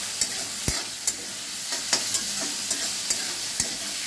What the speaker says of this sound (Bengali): পেঁয়াজটাকে খুব ভাজবো না,